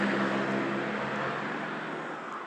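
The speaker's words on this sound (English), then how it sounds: "It's a loud truck." A loud truck passes close by outdoors in a snowy wooded area, a steady broad engine and tire roar that fades slightly as it moves away, with no talk.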